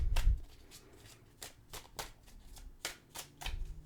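Tarot cards are shuffled by hand in a series of quick riffling, flicking bursts at a loose rhythm, close and soft, with thumps of handling at the start and end.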